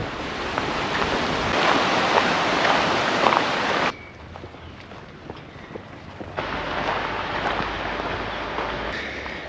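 A river in the Albanian Alps near Theth rushes steadily as broadband water noise, loud and close, dipping briefly in the middle, with no talk.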